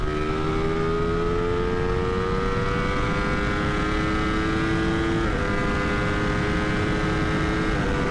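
A Ducati naked motorcycle accelerates hard, its engine note climbing steadily in pitch. A brief break for a gear change comes partway through before the pull continues, loud and close throughout.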